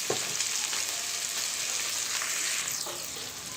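Ingredients seasoned with chili powder fry in a little oil in a pan, giving a loud, close, continuous sizzle with faint scrapes of stirring and no voices.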